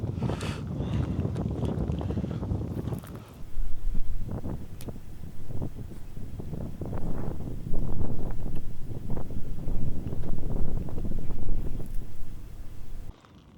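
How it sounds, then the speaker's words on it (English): Wind gusting across an open wildlife refuge in Delaware in spring, a steady broadband rumble of wind buffeting the microphone with louder surges partway through, no talking. "It is a little windy today."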